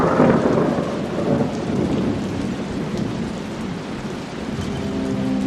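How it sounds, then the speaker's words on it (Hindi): A thunderstorm with strong wind and heavy rain roars close by, a dense rushing downpour with deep rolling rumbles of thunder swelling and fading throughout. "तेज हवा और बारिश के कारण आगे बढ़ना मुश्किल हो गया।"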